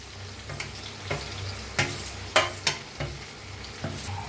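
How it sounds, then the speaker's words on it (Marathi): Brinjal masala is stirred in a pan over a gentle sizzle, with repeated sharp scraping strokes of a spoon against the metal at an irregular pace. "आता मस्त असं फिरवून घेऊया वांगे जो मसाला उरला होता सगळा ह्याच्यात टाकूया"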